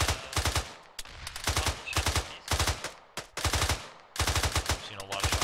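Automatic gunfire in the military shooter Arma 3, loud rapid bursts of rounds repeating in tight strings with brief pauses between volleys, close and dominant.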